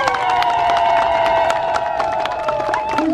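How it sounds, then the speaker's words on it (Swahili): A crowd claps and cheers loudly for a farmer at an outdoor gathering with the Prime Minister. A sustained tone carries over the continuous dense applause. "Pigia makofi Mlimbila."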